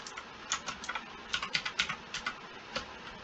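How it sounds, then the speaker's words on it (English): Quick, uneven keystrokes tap on a computer keyboard while code is entered, close and fairly quiet, with short bursts and pauses and no talking. "create a table from scratch by just typing in the code"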